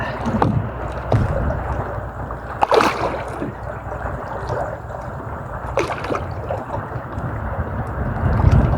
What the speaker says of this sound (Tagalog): Umaarangkado ano na naman yung hangin, pambihira.